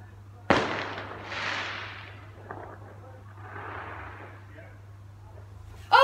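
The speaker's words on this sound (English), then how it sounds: "Fireworks!" Bonfire night fireworks: one sharp nearby bang followed by crackling, hissing bursts that swell and fade, with a second softer burst later and another loud pop at the end, against a steady low hum.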